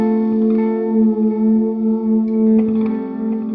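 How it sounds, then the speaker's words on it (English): Cole electric guitar run through Spaceman effect pedals into a Sour Sound amp, a sustained, chorus-soaked and slightly distorted chord droning loudly with subtle wavering. "plugging in his Cole guitar into Spaceman effect pedals and a Sour Sound amp"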